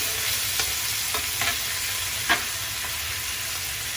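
Stovetop paella sizzles steadily in the pan while pieces are nudged and turned, a constant bright frying hiss with a few soft scraping stirs and clicks on top, no voices.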